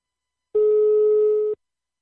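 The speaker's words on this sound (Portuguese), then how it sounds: "Vou ligar pra Osiné" A steady single telephone tone sounds as a number is dialed, holding for about a second before cutting off cleanly, clear and alone with silence on either side.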